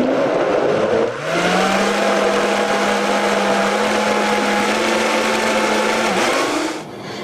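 A countertop blender runs loud and steady for about six seconds, whirring through a vegan chocolate ice cream mixture after a brief start, then winds down at the end.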